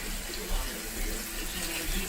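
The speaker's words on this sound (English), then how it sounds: "I'm about to get this chicken in here so y'all can hear the sizzle of the chicken." Chicken pieces sizzling in oil in a large frying pan for Jamaican rasta pasta, a steady broadband hiss with faint crackles that stays constant with no talking.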